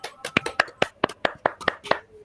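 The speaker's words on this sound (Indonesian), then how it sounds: "Mari kita tepuk tangan untuk kita semua" A small group claps hands in unison during a teaching workshop session, about eight or nine sharp, evenly spaced claps in a quick rhythm, close and clear.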